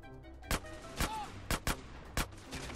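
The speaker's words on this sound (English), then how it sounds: "I'm loading into the mission and getting shot at." Single gunshots in Grand Theft Auto: San Andreas Definitive Edition, five or six sharp cracks at roughly half-second intervals over a low background hum.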